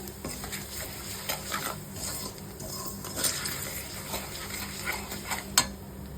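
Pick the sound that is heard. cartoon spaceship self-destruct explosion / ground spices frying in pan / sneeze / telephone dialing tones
ground spices frying in pan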